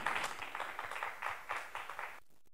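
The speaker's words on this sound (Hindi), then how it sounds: "जोरदार तालियां अरुण जी के लिए" An audience at a televised singing competition finale claps for a judge with dense, rhythmic applause that holds steady and then cuts off abruptly near the end.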